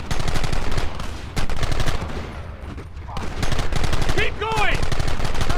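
Gunfire in Red Dead Redemption: loud, close machine-gun bursts hammer almost continuously, with a brief lull near the middle and a few ricochet whines near the end, while someone shouts commands over the shooting.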